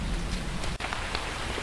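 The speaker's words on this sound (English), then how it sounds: "because it is pouring down with rain" Heavy rain pours down outdoors in the wild, a steady dense hiss of drops hitting the ground that fills the whole stretch, close and loud with no voices.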